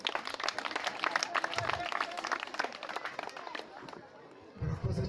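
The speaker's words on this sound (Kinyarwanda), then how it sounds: "amashyi menshi cyane" Guests clapping at a traditional Rwandan wedding, a burst of scattered, lively hand claps from a crowd that thins toward the end, with voices and chatter mixed in.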